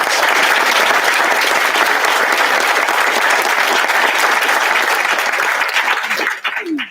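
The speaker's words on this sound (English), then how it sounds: "Round of applause for our parents and family members." Loud, dense audience applause fills a school closing ceremony, a steady wash of clapping from many hands that holds evenly before thinning out near the end.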